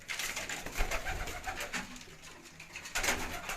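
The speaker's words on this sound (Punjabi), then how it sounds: "3 ਨੰਬਰ ਟੈਡੀ ਕਬੂਤਰ ਹੈ ਸਾਡਾ" A champion racing pigeon on a rooftop loft in Gujranwala coos, giving soft, repeated throaty calls that come close and clear, with no talk over them.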